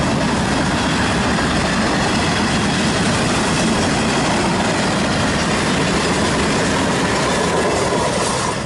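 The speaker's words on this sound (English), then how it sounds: "Train." A loud, continuous rumble and rattle of a nearby train passing, a dense steady roar that holds for several seconds without letup.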